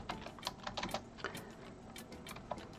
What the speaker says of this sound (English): So let's type in toy,